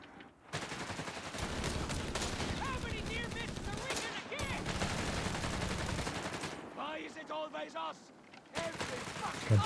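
Machine gun fire and other gunfire crackle through a Company of Heroes 3 multiplayer battle, dense bursts rattling almost continuously under a caster's excited commentary.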